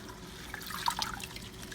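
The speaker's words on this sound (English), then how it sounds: "once you have your leaves in the water, swish it around" Kale leaves are swished around in a bowl of water while a kale salad is being made, giving soft sloshing and light dripping splashes that rise briefly in the middle.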